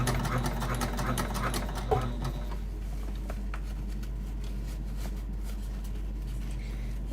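Sewing machine top stitching a bag, a steady rapid mechanical whirr running continuously under a constant low motor hum, loudest early and slightly quieter later, no talking.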